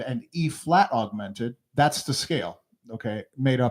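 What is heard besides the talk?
No everyday noises stand out.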